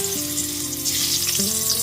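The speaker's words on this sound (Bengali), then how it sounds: "সমস্ত আলুর টুকরোগুলোকে লাল করে ভেজে নেব" Peeled, halved medium potatoes fry in oil over a medium gas flame for a Bengali mutton and potato curry, a steady bright sizzle with a tonal hum running underneath.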